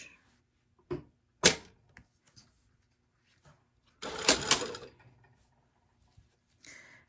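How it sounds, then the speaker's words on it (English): A domestic sewing machine stitching a garment side seam between notches, with short bursts of whirring motor and needle, one longer run near the middle, separated by quiet pauses. "And we're going to sew from that pocket notch, 3/8 of an inch, up to the notch that's here"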